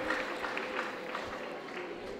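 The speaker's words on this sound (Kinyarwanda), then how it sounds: "Amashyi menshi cyane, amashyi menshi cyane." Applause rises at a wedding ceremony as a soft, continuous patter of many hands with a faint crowd murmur, somewhat distant and fairly quiet.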